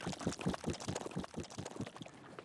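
A very fluid oil sands sample pours steadily in a continuous gurgling, splashing stream, close and moderately loud, with no talking.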